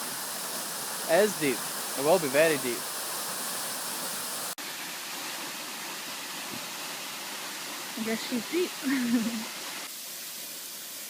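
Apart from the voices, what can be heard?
waterfall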